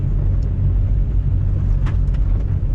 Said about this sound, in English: Oh, here comes the Salter truck.